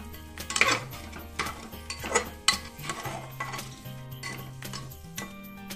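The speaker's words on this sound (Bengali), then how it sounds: "এটা নাড়ো, ভাজা হবে" Food fries in a pan while a utensil stirs and scrapes against the metal, producing irregular clinks and knocks over a faint sizzle.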